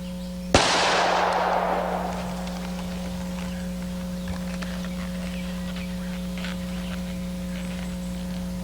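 A single sharp gunshot fired at a target on a shooting range, loud and close, with a long fading echo and a steady hum afterward.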